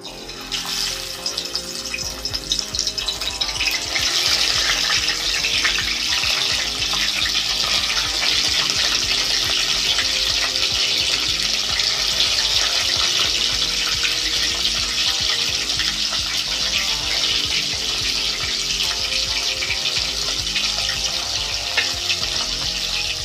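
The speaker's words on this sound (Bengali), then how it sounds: "মাছগুলো ভেজে নেবো আমি" Parshe fish frying in hot oil, a loud continuous sizzling crackle that holds steady throughout with no talking.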